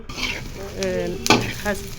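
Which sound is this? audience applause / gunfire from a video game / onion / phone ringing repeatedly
onion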